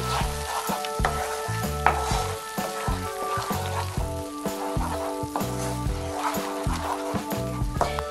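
Mushroom curry cooks in a pan, with a steady sizzle and intermittent scraping as it is stirred, while a faint tonal hum or music runs underneath.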